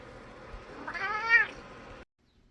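A pet cat gives a single drawn-out meow, moderately close, over a soft room hiss that cuts off to silence right after.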